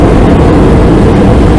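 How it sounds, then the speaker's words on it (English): A loud, dense engine roar with heavy low rumble, steady and unbroken, like an aeroplane flying close overhead. "While Peppa, George, Mammy and Daddy Pig flew on an aeroplane"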